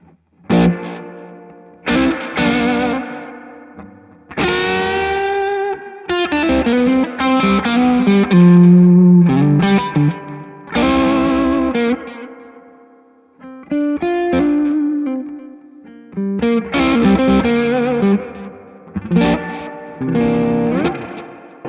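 An electric guitar played through a Strymon delay pedal with plenty of spring reverb, bright plucked phrases and chords that ring out and trail off in echoing repeats between short pauses, with no talking.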